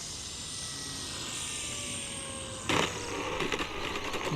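A Flightline F4U-1D Corsair RC model plane, 1600 mm wingspan, comes in to land, its electric motor whining at a steady pitch before a burst of scraping, clattering noise as it touches down.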